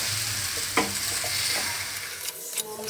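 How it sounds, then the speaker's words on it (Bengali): Chicken pieces hit a pan of fried spice masala and sizzle steadily, with a few stirring scrapes over the continuous frying hiss, no voices. "মশলা কষানো হয়ে গেছে, এখন চিকেনটা দিয়ে দেবো।"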